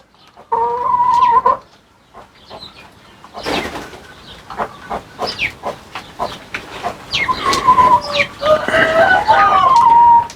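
Chickens and roosters around coops overrun by swarming birds produce close, loud bursts of clucking and crowing that repeat in uneven clusters, with busy bird calls chattering between them and no voices.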